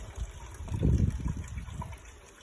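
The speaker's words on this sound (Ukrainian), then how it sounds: "Це водичка збігла, можна ще трошки пережмуть." Water trickles and drains from a pressed homemade fuel briquette, a soft low splashing dribble that swells briefly near the middle and then tapers off, close by with no talk.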